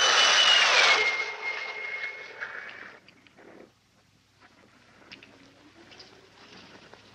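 A jet fighter aircraft roaring loud overhead and then fading quickly, leaving a faint, distant residual engine hum.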